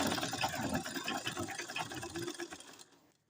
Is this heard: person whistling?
no